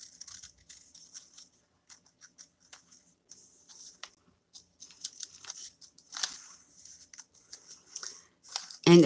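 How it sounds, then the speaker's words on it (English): Scissors snip paper in small, irregular crisp cuts, close and quiet, with brief pauses between clusters of snips. "the trick to fussy cutting is moving the paper and not the scissors"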